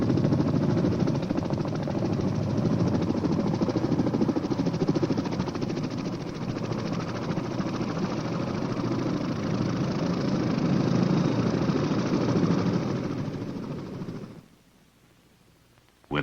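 Military helicopters heli-lifting three companies of the 3rd Battalion, 9th Marines onto a ridgeline: a loud, steady rotor and engine roar holds for about fourteen seconds, then cuts off abruptly.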